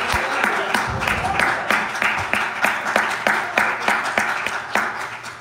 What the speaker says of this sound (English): Give God a big hand clap of praise.